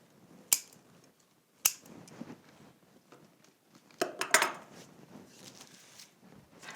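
Scissors snip through winter wreath material in a few sharp, separate cuts, with soft rustling and handling noise between them.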